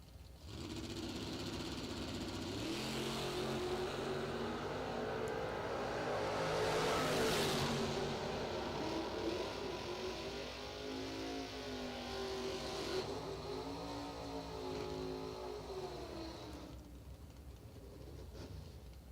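An S10 drag racing truck revving and launching at the IHRA World Finals at Little River dragway: a loud engine rises in pitch through repeated revs, surges hard mid-way, then sweeps through gear changes before cutting off near the end.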